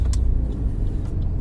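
A car passes on the road in a brief, steady low rumble of engine and tyre noise, moderately close, with no voices.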